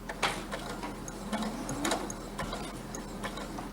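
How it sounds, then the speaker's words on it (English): Quiet mechanical ticking and clatter from a sewing machine as it stitches off the end of a fabric piece during chain piecing, with a few sharper clicks spread through a low background hum. "When you get to the very end, you're actually going to sew off of the piece of fabric."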